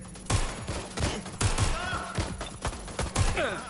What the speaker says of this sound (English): Taking fire. There's a shooter out here!